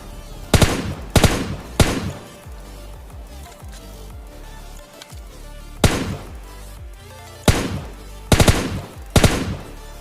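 Gunfire in PUBG Mobile Lite: several loud bursts of rapid automatic fire, clustered near the start and again in the second half, with quieter game ambience between volleys.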